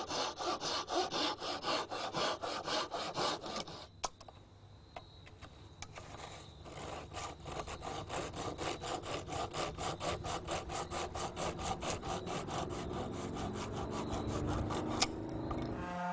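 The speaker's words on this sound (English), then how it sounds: "Then turn it on its side and cut the wedges loose." A hand saw cutting wedges loose from a wooden workpiece for rustic furniture, with fast, even back-and-forth rasping strokes heard up close and alone, a short pause near the start, then a long steady run.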